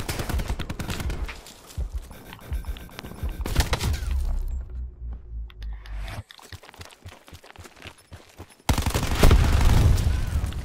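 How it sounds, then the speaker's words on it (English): Gunfire in Call of Duty Black Ops 4 gameplay comes in loud bursts and single cracks, with sniper shots among them, plus booms and rattling between the shots. "Bro, there's two people sniping me!"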